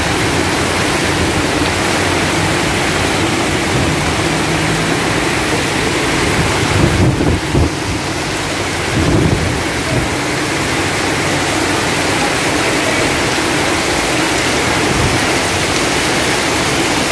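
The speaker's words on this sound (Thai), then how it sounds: "ทั้งลมทั้งฝนจริงๆเลยครับ" Strong wind and heavy rain during a storm in Hat Yai, Thailand, a loud unbroken roar of pouring water and gusts buffeting the microphone, with brief heavier surges midway and no talk.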